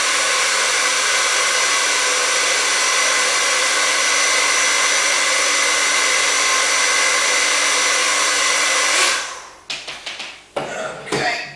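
A hair dryer runs on its second setting, a steady loud whooshing blow for about nine seconds before switching off, followed by a few handling clicks and taps.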